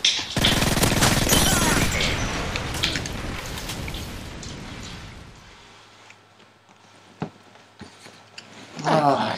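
Gun firing in the video game Modern Warfare 3, a rapid loud stream of close shots for several seconds that fades into quieter game sounds with a few later isolated shots and talking.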